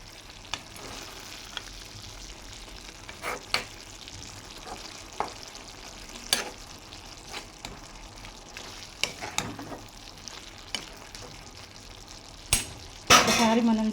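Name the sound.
stirring broad bean and tomato curry frying in a pan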